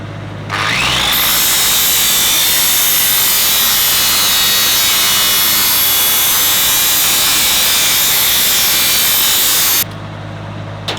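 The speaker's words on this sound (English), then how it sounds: "we're going to grind kind of a little bit of a bevel on both sides of this" An angle grinder spins up and grinds a bevel into a metal skirt panel on a truck bed, a loud, steady high-pitched whine held close for about nine seconds before it cuts off and winds down.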